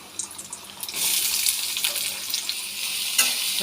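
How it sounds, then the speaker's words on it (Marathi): Chopped onion hits hot oil in a kadai and starts to fry. A loud, steady sizzle swells after a few light stirring clinks and continues close up with no voices. "कांदा जो आहे आपण व्यवस्थित त्याच्यामध्ये फ्राय करून घेणार आहोत ब्राऊन कलरचा होईपर्यंत"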